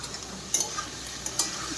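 Carrot and capsicum stir-fry in a hot pan, a steady soft sizzle with a few brief scraping stirs of the spatula, close and fairly quiet, with no talking.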